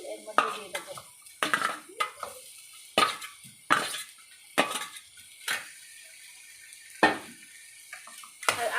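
Boiled potatoes tipped into a pan of spices and stirred, with a series of loud close metallic clanks and scrapes of a utensil against the pan, irregularly spaced between quiet gaps.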